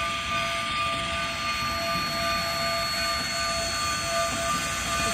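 Train passing at a trackside chasing spot, a steady loud broadband rumble with sustained high tonal whine lines, continuous and close for the whole stretch, with no talk.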